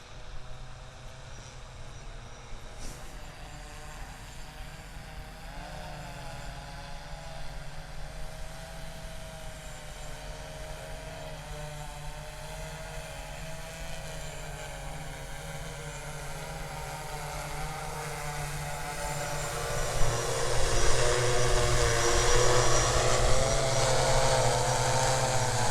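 An Xplorer drone flying back under manual control gives a steady propeller whine and hum that holds through the clip and grows louder and closer toward the end.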